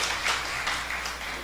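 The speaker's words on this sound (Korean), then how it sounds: "잠깐 일어나시면 큰 박수 한번 해주시기 바랍니다." A church congregation applauding to welcome a guest during a Sunday morning service, a continuous wash of many hands clapping at moderate volume.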